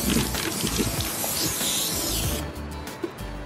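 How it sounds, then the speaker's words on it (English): A spray paint can hisses out an aerosol coat onto a vase, a continuous loud spray lasting most of the clip before it cuts off near the end. "Now you wanna spray an even layer around."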